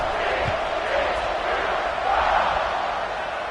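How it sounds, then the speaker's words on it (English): Stadium crowd in EA College Football 26 buzzes after a touchdown during a TCU vs Texas game, a steady, dense roar of many voices holding at a constant level for the whole stretch. "this crowd is buzzing after that last score"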